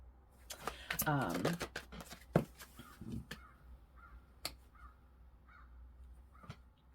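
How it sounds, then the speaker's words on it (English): Several sharp crow caws ring out in short bursts, some near and some farther off, mixed with faint rustling and a voice early on. "That sounds like a fucking crow to me."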